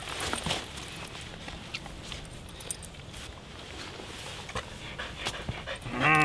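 An Australian Shepherd dog pants in quick, light breaths close by, with soft footfalls and small scuffs outdoors. The noise swells louder at the very end.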